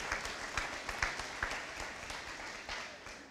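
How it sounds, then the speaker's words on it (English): An audience at a GED graduation ceremony claps for the graduates, a moderate spread of hand claps with a few sharper individual claps standing out, heard at a modest distance in a large room. "can we give them another round of applause for the GED graduates?"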